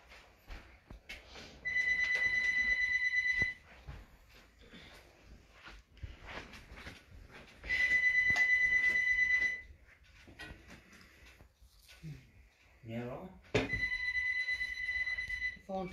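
A telephone rings in three long bursts with quiet gaps between them, fairly soft against low room noise.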